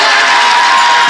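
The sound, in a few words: audience applause and cheering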